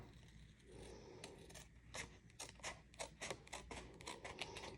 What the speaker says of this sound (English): Take a pair of scissors and this lower right hand corner,